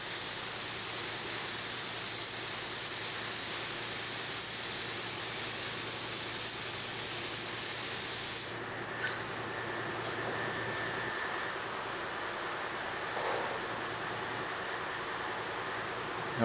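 A spray gun lays an EkoPoly coat onto an aircraft wing with a loud, continuous airy hiss that cuts off abruptly halfway through, leaving a quiet room with faint background noise.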